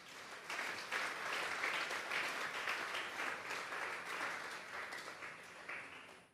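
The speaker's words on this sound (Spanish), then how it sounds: "Vamos a darle un fuerte aplauso al Señor." A church congregation applauding during a Thursday Bible doctrine service, a dense, even roar of many hands clapping together, heard from a distance and fairly faint, holding steady for about six seconds before fading at the end.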